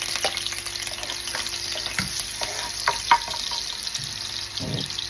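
Garlic frying in a pan for adobong nokos, a steady close sizzle with occasional stirring clinks and scrapes.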